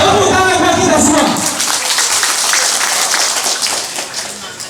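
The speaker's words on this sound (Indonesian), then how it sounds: "Tepuk tangan buat kita semua." Audience applause at a nighttime Ansor Banser gathering in Mimika, a dense burst of clapping that starts loud, then tapers off under continuing voices.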